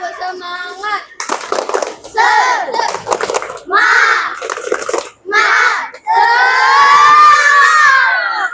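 Children's voices shouting a rhythmic clapping chant in a classroom or schoolyard, loud and close, with bursts of group chanting separated by short pauses, ending in a sustained cheer.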